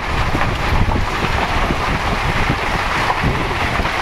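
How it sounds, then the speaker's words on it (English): Strong gusty wind blowing across the coast by a yacht club, a loud, constant rushing roar with wind buffeting the microphone and faint water wash beneath, no voices. "Said it was blowing a hoolie down here just now"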